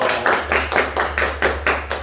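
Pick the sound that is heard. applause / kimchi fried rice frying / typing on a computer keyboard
applause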